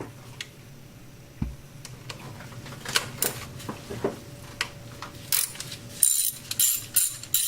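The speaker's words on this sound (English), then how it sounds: "Here we're going to remove 8 bolts for the middle valve cover gasket that goes where the ignition coils go in." Ratchet clicking in short bursts as valve cover bolts are loosened on a 2005 Toyota Tacoma four-cylinder engine, sharp close ticks and clacks scattered through with brief pauses, no talking.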